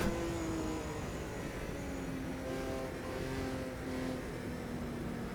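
Steady engine drone of a Group C race car in the racing game Automobilista 2, holding a sustained tone with slight pitch shifts through gear changes, loud and continuous with no talk.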